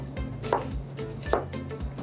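An onion is cut into thick strips with a kitchen knife, and the blade lands on the board in a few crisp, close strikes at an even, unhurried pace.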